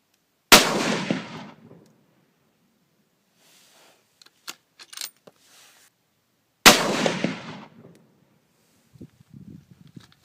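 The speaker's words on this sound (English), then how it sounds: "I'm gonna go shoot some steel in a bit." Two loud, sharp rifle shots from a Savage .270 WSM crack several seconds apart, each followed by a short echoing tail, with faint clicks and clatter in between.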